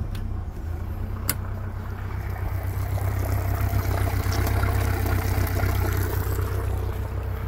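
A 1995 Honda 90hp outboard motor fitted with a counter-rotation gearcase runs steadily in reverse gear. The low engine drone is continuous and close, with a brief click near the start and no talk over it.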